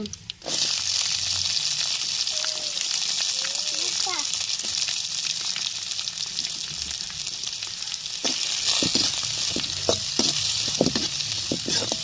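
Onions sautéing in hot oil in a pan, a loud continuous sizzle filling the whole stretch, with a few clinks of stirring and a person talking over it.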